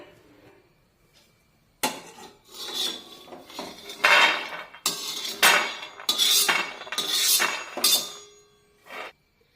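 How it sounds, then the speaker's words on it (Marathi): Dry-roasted peanuts being scraped out of a hot pan onto a plate, heard as loud metallic scraping and rattling in several bursts after a quiet start. "हे शेंगदाणे एका प्लेटीमध्ये काढून थंड होण्यासाठी ठेवून देऊया"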